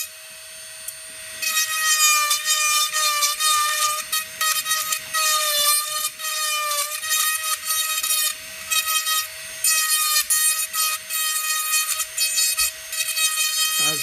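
Dental handpiece grinding plaster off a flipper partial denture, a high whining tool that starts after a short pause and then runs in loud sustained bursts, rising and dipping in pitch as it bites into the plaster.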